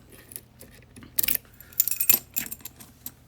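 Keys jangle and rattle in a Yale 2000 Plus lock, a couple of close metallic bursts of clinking over a quiet background.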